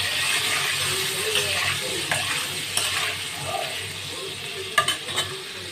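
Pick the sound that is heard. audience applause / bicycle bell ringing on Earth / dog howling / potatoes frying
potatoes frying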